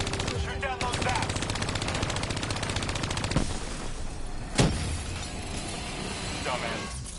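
Rapid automatic gunfire rattles in long bursts in the Black Ops 3 campaign as zaps are shot down, with sharp impacts and a shattering crack partway through, while voices talk over the action.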